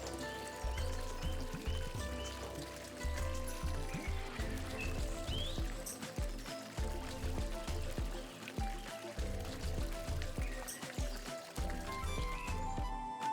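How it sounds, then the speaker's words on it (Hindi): Water fountains splash steadily at India Gate in New Delhi, a continuous pouring and spattering spray with occasional bird calls faintly in the background. "खूबसूरत बनाते हैं ये पानी के फुहारे।"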